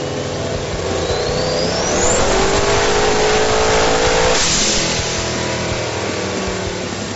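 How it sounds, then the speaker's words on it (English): Car engine on a dyno during the first competition pull of a power-to-the-wheels challenge, revving hard with a rising pitch, peaking loud mid-pull, then settling into a steady drone. "your car is about to go up on the dyno for the very first pull of the competition"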